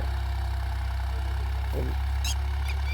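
A New Holland 3630 4x4 Super Plus tractor pulls a heavy 13-tine plough through wet ground in first high gear, holding about 2000 rpm. Its diesel drones in a close, steady, low rumble, with a brief voice-like sound partway through.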